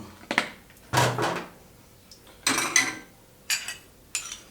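A tablespoon scooping sugar while making canned-fish tom yum soup: a few separate scrapes and clinks of metal against a container, close by and fairly loud, spaced out with quiet gaps between them.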